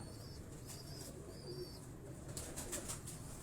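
Pigeons of a fancy teddy breed in a loft, soft faint cooing and a few light flutters over a steady noisy background, with no talking.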